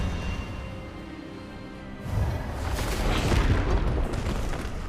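Expelliarmus spell cast in the Hogwarts Legacy video game, a sudden loud rushing whoosh and boom that swells and lingers as a dense roar, close and alone after a quieter opening.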